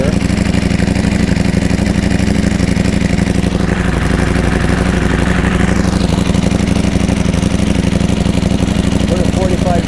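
Aprilia Tuono and Ducati V4 motorcycle engines idle on a rolling bench, a loud, close, steady throbbing rumble that holds throughout, with a slight rise and fall in pitch partway through.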